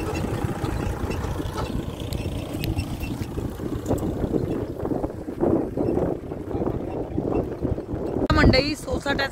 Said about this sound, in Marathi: मंडळी सोसाट्याचा वारा सुद्धा सुटला आहे